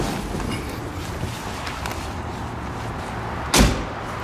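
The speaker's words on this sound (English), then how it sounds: "That's the sound of a Porsche door closing." Quiet background hum, then a single solid thud of a Porsche 911 car door shutting close by, sharp and short.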